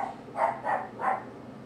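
Domestic dogs bark faintly indoors, three quick muffled barks in a short burst, each soft and somewhat distant.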